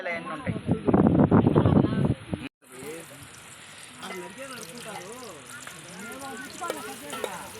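Mustard seeds and green chillies frying in a pan while cooking outdoors in a farm field, a loud crackling sizzle that cuts out abruptly, then quieter frying under people talking.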